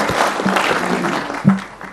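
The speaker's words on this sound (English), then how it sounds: "A round of applause, please, for that first speech" A forum audience applauds briefly after a speech, a short burst of clapping with a faint voice or tone underneath.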